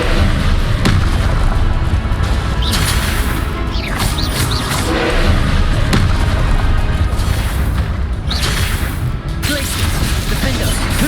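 Confringo fire spells in Hogwarts Legacy go off as repeated booming blasts and crackling impacts amid a constant roar of combat, loud and close over several seconds.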